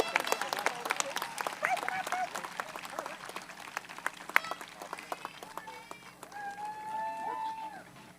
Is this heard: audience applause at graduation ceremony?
yes